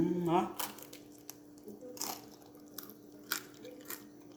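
Crunchy homemade bread is bitten and chewed close to the mic, giving a few sharp crackly crunches spaced over several seconds. A brief voice comes at the start, and the room is otherwise quiet.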